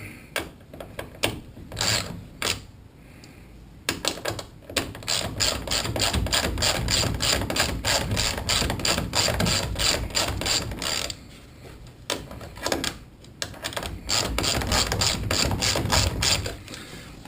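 Hand ratchet backing off 7/16 inch nuts while dismantling the fuel tank structure of a Carlson CVX-18 aircraft kit: close, rapid clicking runs in several bursts, some long and steady, with brief pauses between.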